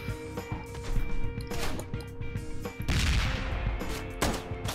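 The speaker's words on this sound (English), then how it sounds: "Using a sawn-off shotgun" Sawn-off shotgun fire in the biker game Ride To Hell: Retribution, a run of loud, close blasts and mechanical clatter layered under a busy game soundtrack across the clip.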